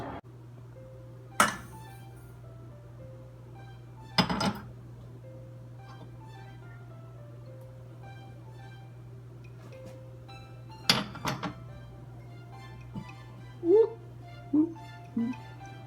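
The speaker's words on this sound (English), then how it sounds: "I'm going to put the sugar, the cocoa, and the milk into the stirring pot, and I will stir them until they blend well" A spoon clinks sharply against a cooking pot a few times, with sugar, cocoa and milk being stirred together for fudge over a steady low hum, the clinks sparse and irregular with long quiet gaps between them.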